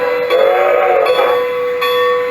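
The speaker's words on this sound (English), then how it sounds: "the bell will ring for a few seconds, just as a real locomotive does" A model steam locomotive's digital sound unit ringing its bell, a close, loud tonal ring sustained over a couple of seconds with a steady hum beneath, no voices.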